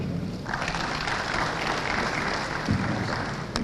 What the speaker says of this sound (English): Please, can we give him a round of applause, please? Let's keep it going for him.